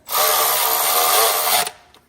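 A power tool whirs steadily for about a second and a half during a Spelab intake horn install on a 6.7 Cummins, then cuts off abruptly, leaving a faint tail.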